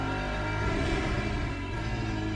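A Lexus race car engine from the Le Mans Ultimate racing game holds a steady, rich drone at moderate volume for a couple of seconds, with no talk.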